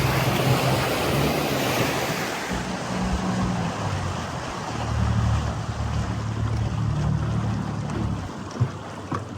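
Strong, steady wind roars across open water on the Big Pee Dee River, with waves sloshing and a low engine drone underneath throughout.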